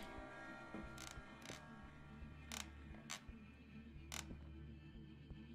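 Wooden floor creaking inside a house in the horror game Fears To Fathom: several short, separate creaks at uneven intervals over a low steady hum, faint and fairly close, with no talking.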